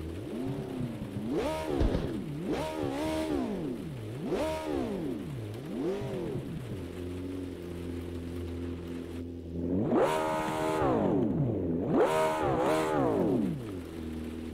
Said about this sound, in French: Allez, on va écouter ce moteur.